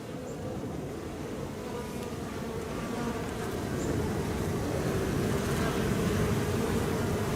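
A dense, steady hum of many honeybees buzzing close by at an open hive, continuous and growing slightly louder, with no voices.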